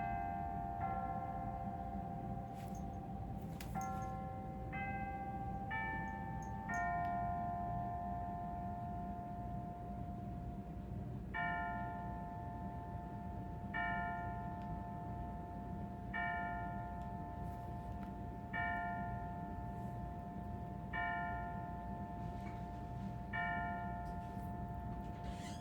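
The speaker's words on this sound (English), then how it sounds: "this is a long bell" A church bell rings steadily for a long stretch, its clear struck tones repeating at a slow, even pace over a constant background hum, with no talking.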